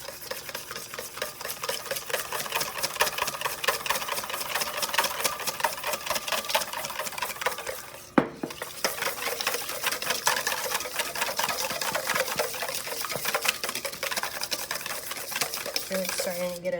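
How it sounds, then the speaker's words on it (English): A hand whisk beats fat into a sauce in a steady, rapid metallic rattle that runs nearly unbroken, pausing briefly midway, loud and close with little else over it. "whisking that fat in"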